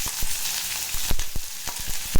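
Mustard and cumin seeds sizzle in hot oil, a close, steady hiss broken by sharp popping crackles at irregular intervals.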